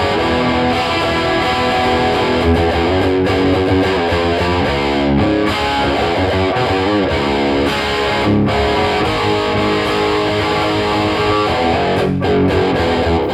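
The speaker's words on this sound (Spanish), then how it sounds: "Este es el sonido con distorsión." Heavily distorted electric guitar running through an AMT D2 preamp pedal, dense sustained chords and riffs played loud and continuous, with no talking.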